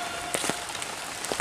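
Outdoors by rice fields near an abandoned house, rain patters in a soft continuous wash, with a few louder drops striking close by over a short stretch.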